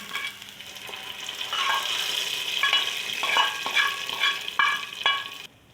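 Hot oil sizzles and crackles steadily as a tempering of spices and green chillies hits the pan for moong dal, with a few clinks of stirring; close and continuous, no voices.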